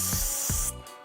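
An aerosol can sprays in a loud hissing burst, followed by a second short spritz, close up.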